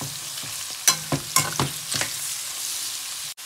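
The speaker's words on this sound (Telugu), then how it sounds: "ఈ ష్రింప్ ఇలా ఒక 5 minutes ఫ్రై అయిన తర్వాత ఆయిల్లో మంచిగా ఇందులోనే ఆనియన్స్ అండ్ గ్రీన్ చిల్లీ వేసుకొని ఫ్రై చేసుకోవాలి" Shrimp frying in oil with onions and green chilli, with a crisp sizzle and a few quick scraping stirs in the first two seconds, then the frying hiss continues alone.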